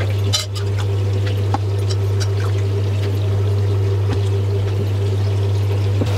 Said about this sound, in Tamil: கொஞ்சம் தண்ணி சேர்க்கிறேன்